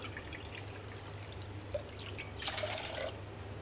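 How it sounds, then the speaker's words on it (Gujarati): Water poured from a small bowl into a pressure cooker holding urad dal, a soft trickling pour swelling briefly near the end over a low steady hum, fairly faint. "થોડું ઉપર પાણી રેડી દઈશું।"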